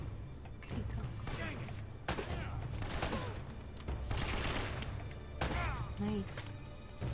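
Gunfire in Uncharted: Drake's Fortune on hard mode, a few sharp shots cracking at irregular intervals amid game effects and ambience, with occasional voices in the background.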